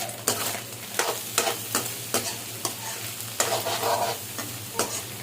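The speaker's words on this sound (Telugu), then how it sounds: "అలాగే ఒక ఆనియన్ చిల్లీస్ వేసుకొని ఫ్రై చేసుకోవాలి" Onion and chillies fry with green peas in a pan for egg fried rice. A spatula strikes and scrapes the pan in an irregular rhythm over a constant close sizzle, with no talk.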